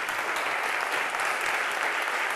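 Steady, dense applause from an audience greeting Colonel Pedro Baños at a talk event, a continuous wash of clapping with no talk over it.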